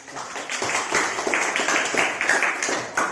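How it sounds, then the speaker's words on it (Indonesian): Classroom applause for a student group after its class presentation, a steady patter of many hands clapping together for about three seconds, moderately loud with a busy room feel and possible faint voices mixed in. "Tepuk tangan untuk kelompok"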